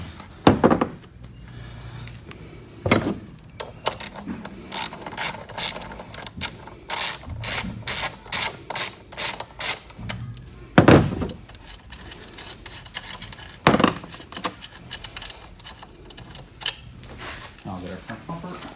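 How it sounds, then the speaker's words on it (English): A ratchet with a 10 mm socket backs out bolts while assembling a 1300 W electric ATV, giving bursts of rapid clicking with short pauses between them, near and fairly loud, and someone talks at times in between. "you're going to take out all your 10 mil bolts."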